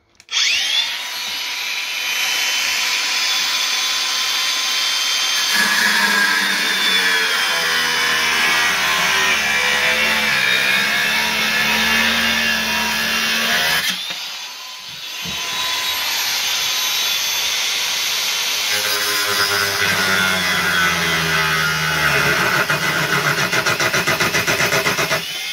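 A loud, continuous high-pitched whine of an angle grinder cutting metal for a coat-of-arms shield, its pitch wavering as the load changes, dipping briefly midway before resuming.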